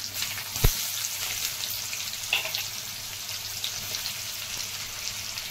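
Thinly sliced onion pieces frying in hot oil with dried red chillies and asafoetida, a steady close sizzle with a couple of brief clinks, no talk.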